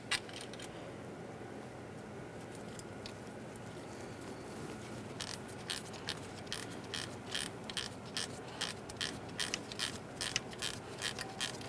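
A ratchet snugging a 12mm mounting bolt on the dipstick tube of a 2011-2020 Toyota Sienna engine: a quiet stretch, then a run of quick, evenly spaced clicks, close but faint.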